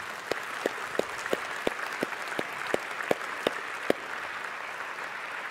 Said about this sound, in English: Let's give God a clap offering